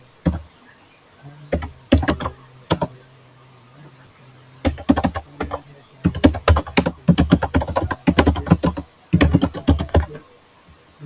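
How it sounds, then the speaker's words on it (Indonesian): Typing on a computer keyboard comes in close, loud bursts of rapid key clicks, separated by short pauses, with a hum underneath. "Oke, aku ketik dulu ya."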